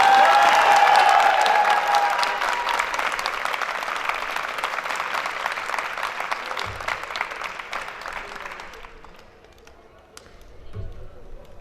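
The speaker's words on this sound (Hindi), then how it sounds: "ये जो आपकी तालियां हैं" Applause from students at a welcome party for juniors and seniors in a university commerce department: dense, loud clapping that gradually thins and fades over several seconds, with a few scattered claps and murmurs at the end.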